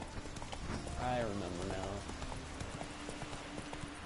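Horse hooves clip-clop in the video game The Witcher 3, a soft steady trot running under a man's quiet speech, with a brief neigh-like sound early on.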